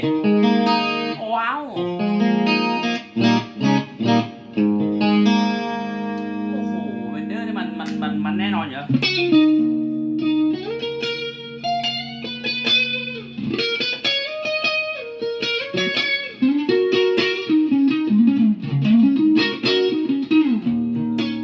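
A Fender Player Stratocaster SSH through a BOSS GT-10 plays distorted sustained chords and bending single-note lines, washed in reverb, loud and continuous with no voices.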